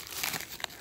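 A parcel sealed with packing tape being opened, giving crinkly tearing and crumpling bursts of tape and packaging, close and fairly loud for under a second with a sharp rip near the end.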